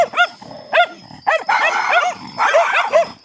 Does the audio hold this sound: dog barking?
yes